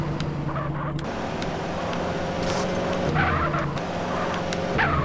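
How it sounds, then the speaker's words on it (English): A car in Grand Theft Auto: San Andreas ramming through traffic: a continuous engine roar with tire skids and scattered impact thuds, loud and close, with no speech. "Look at me just ramming through everything."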